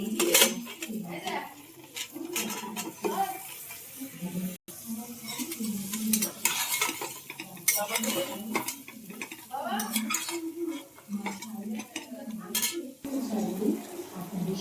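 A utensil stirs vegetables with turmeric and salt in a metal cooking pan, clinking and scraping repeatedly over a light sizzle, close and busy for the whole stretch.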